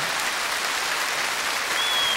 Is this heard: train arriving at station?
no